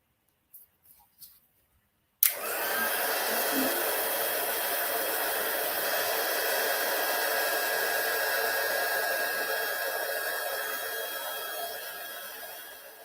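A heat embossing tool switches on after a few soft clicks, blowing a steady, loud whooshing hiss that continues unbroken as it melts metallic embossing powder on paper.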